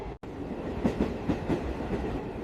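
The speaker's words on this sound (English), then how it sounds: "The train slows down now." A train rolling on rails gives a steady rumble with soft rhythmic clicks of wheels over track joints, close and continuous.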